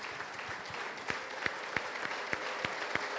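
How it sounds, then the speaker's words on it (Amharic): A church congregation claps together at a Sunday service, steady rhythmic applause with sharper, evenly spaced claps standing out, heard from a moderate distance and fairly quiet. "ለጌታ አንድ ጊዜ ታላቅ እልልታ ጭብጨባ ስጡ"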